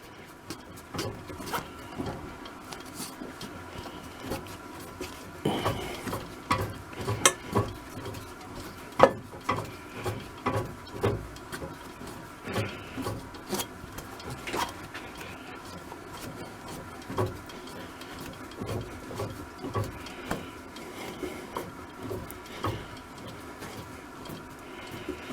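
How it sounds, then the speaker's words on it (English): A hand tap cuts a very fine screw thread, giving repeated small creaks and clicks in an irregular rhythm as it is worked slowly down the hole, close and fairly quiet. "Because it's a very fine thread, it takes a while to cut down to the end"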